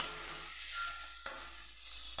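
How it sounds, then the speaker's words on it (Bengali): Onions fry in a pan until lightly browned, giving a steady close sizzle with one sharp clatter of a utensil midway and another at the end, no voices. "তো চলুন পেঁয়াজটা আমার ভাজা হতে থাক"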